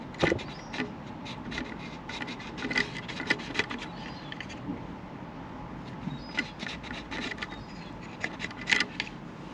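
Cloth rubbing and wiping around a part of a Mercedes OM642 diesel engine during an oil leak repair, a close, soft scratchy rasp in irregular bursts, with no talking.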